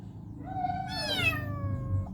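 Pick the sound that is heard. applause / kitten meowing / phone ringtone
kitten meowing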